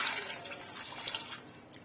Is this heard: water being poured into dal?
yes